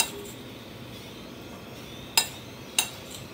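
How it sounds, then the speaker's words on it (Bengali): A spoon mixes cornflour into okra in a bowl, the quiet scraping broken by two sharp metallic clinks against the dish. "সঙ্গে দেবো কর্নফ্লাওয়ার। এটা প্রথমে আমি একটু চামচ দিয়ে মিশিয়ে দিচ্ছি।"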